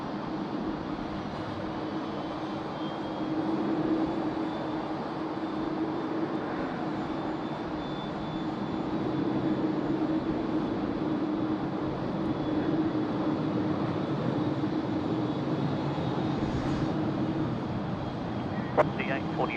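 A jet airliner departing Sydney Airport roars as a broad, steady rumble that holds for the whole stretch, with faint shifts in pitch as it climbs away. Voices talk intermittently over it.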